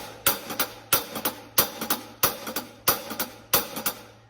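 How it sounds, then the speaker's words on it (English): Drum kit playing a fast jazz swing pattern with accents on 2 and 4, a repeating groove of sharp, bright cymbal and drum hits in tight clusters, loud and close. "This is a test to see how fast you can play that swing pattern."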